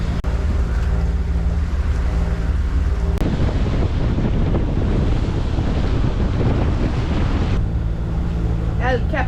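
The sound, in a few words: wind blowing on a boat at sea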